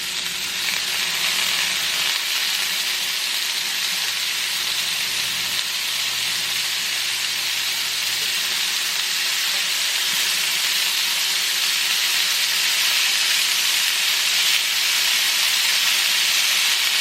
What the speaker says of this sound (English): We're going to go ahead and just add our steak now.